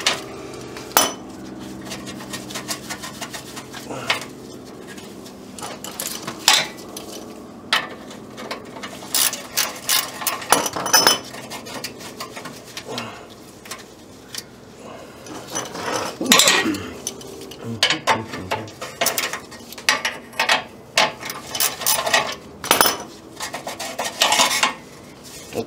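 Metal clamps come off a 1962 Jaguar E-Type in a garage: scattered metallic clicks, ratcheting taps and clanks at an uneven pace, close by and without talk.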